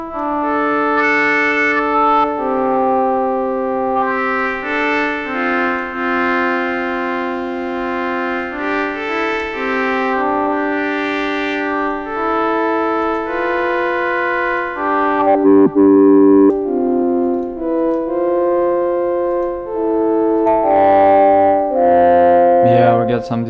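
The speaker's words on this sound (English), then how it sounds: "yeah, we got some distortion" Distorted synth signal from a web audio sound engine built with Elementary, a sustained buzzy tone stepping through shifting pitches for over twenty seconds, with gritty edges and a brief noisy burst midway.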